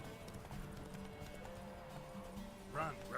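Hoofbeats of the horse Roach galloping in The Witcher 3 video game: a steady, close clip-clop running throughout, with a brief whinny near the end and faint voices underneath.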